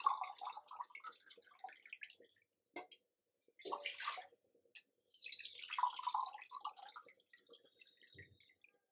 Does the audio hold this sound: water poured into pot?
yes